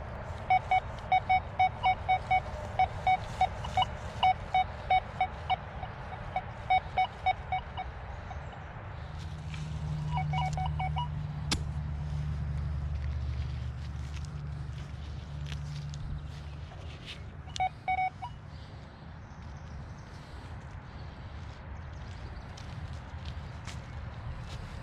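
XP Deus II metal detector running a custom CoinMax program, repeated short electronic beeping tones at the start, then a low hum and sweep with brief tone bursts, quiet outdoor setting.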